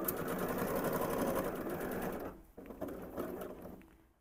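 A sewing machine stitches a Christmas tree fabric panel, its needle running in a fast, even mechanical whir close by, then stopping with a few short bursts as the fabric is turned at a corner.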